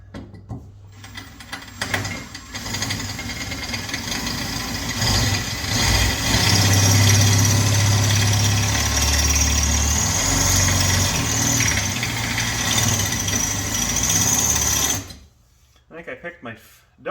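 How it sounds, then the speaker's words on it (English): An electric drill with a dull bit runs loud and continuously for over ten seconds with a grinding, rattling whine while working on a Mustang, then stops, followed by a few brief knocks. "Okay, so got a drill."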